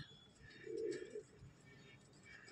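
White sundari pigeons give a soft, low coo, a single short burst standing out over quiet background hiss.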